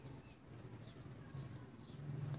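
A breeder pair of white-eyed pigeons coo softly and continuously, a low, murmuring sound that swells slightly toward the end, fairly close and with no clear speech.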